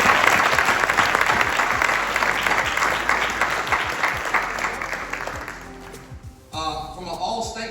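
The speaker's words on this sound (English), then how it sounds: "Give them a round of applause." Loud sustained applause fills a high school football banquet hall, gradually fading out, and a voice begins speaking over a microphone at the end.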